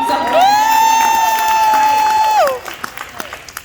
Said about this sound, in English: Can y'all give me a round of applause?